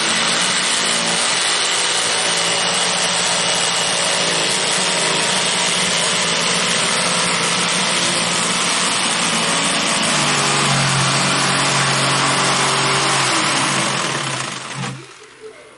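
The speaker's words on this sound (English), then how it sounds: "Because the jigsaw works well. So it vibrates." Jigsaw cutting a circle in wood while repairing a barn door, a steady high-pitched motor whine with a lower vibrating buzz, loud and continuous for most of the clip before cutting off near the end.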